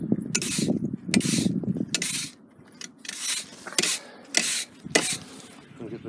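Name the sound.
raking ashes in wood-fired pizza oven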